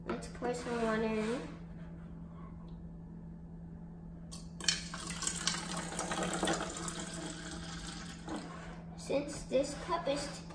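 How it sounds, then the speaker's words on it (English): Distilled water pours and splashes into a cup for several seconds, close by, with brief talking before and after. "let's pour some water in."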